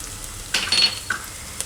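Turmeric, coriander-cumin and red chili powder fry with onion in a pan, a soft sizzle broken by a few sharp scraping strokes of a stirring spoon.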